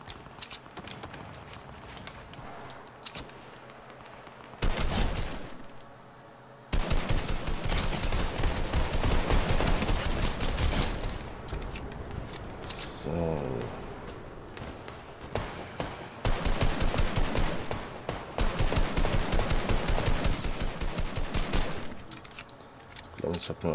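Video game gunfire crackles in loud, dense bursts of rapid shots, breaking off briefly between long sustained volleys.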